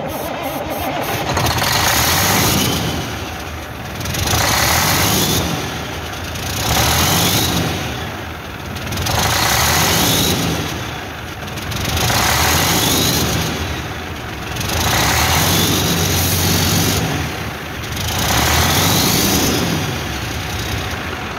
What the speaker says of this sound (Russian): Мотор Detroit 14. Собрали, перебрали все. Снимаем первый запуск.